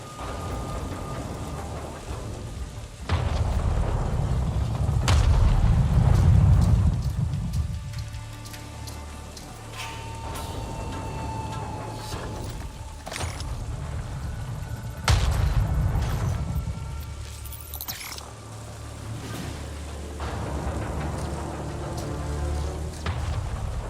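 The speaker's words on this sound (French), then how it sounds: "La tempête approche." A storm builds in a video game, with continuous rain pattering under two heavy, rolling thunder rumbles several seconds apart, plus scattered lighter knocks between them.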